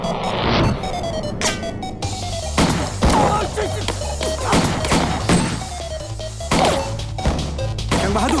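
Sharp, loud gunshots and crashing impacts burst out repeatedly in a film fight scene, layered over music and shouting.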